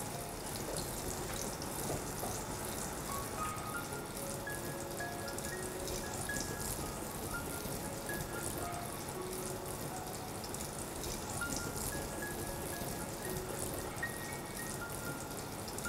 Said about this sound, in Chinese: 好，接着开始我们煎一下这个饼，锅里倒点油。